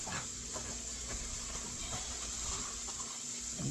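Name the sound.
bacon frying in a pan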